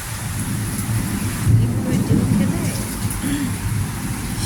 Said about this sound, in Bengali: শব্দ শুনতে পাচ্ছেন গুরুম গুরুম গুরুম বৃষ্টি পড়তেছে টুকুর টুকুর টুকুর টুকুর ঝুমঝুম